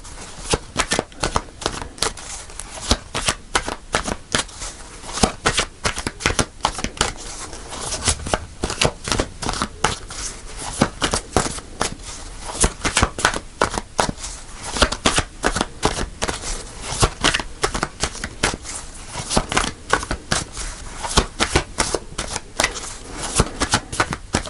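Tarot cards are shuffled continuously by hand, close and crisp, with dense flurries of riffling snaps and slaps repeating steadily.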